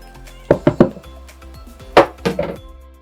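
A spoon stirs rice in a pot, knocking and scraping against the metal in a few sharp clinks and clatters, close and clear in a quiet kitchen.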